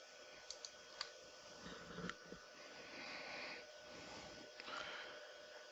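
Sharp mouse clicks at a computer during a Windows Server 2019 setup, a few isolated taps scattered over a quiet room with faint background hiss and no talking.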